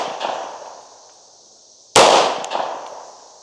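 A single sharp, close gunshot from a Tisas B9R double-stack 1911 pistol cracks out over a steady background hiss, with a short ringing decay afterward.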